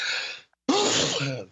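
A single sneeze with a sharp intake of breath, a brief pause, then the explosive burst trailing off, close and fairly loud during a casual talk-show conversation.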